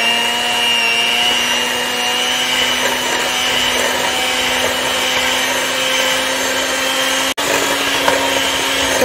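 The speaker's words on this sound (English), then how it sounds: "And now I'm going to whisk it up." Mango cupcake batter is whisked in a bowl with a steady, continuous whirring drone, likely an electric mixer, loud and even throughout with one brief cut near the end and no talking.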